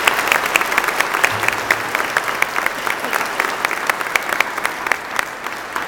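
A ceremony audience gives a round of applause to award committee members: dense, lively clapping from many hands, close and sustained, tapering slightly toward the end.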